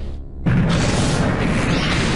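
A sudden loud boom from a video game explosion in Unterwegs in Düsterburg bursts in after a brief quiet, followed by a sustained roaring rumble that fills the rest of the moment.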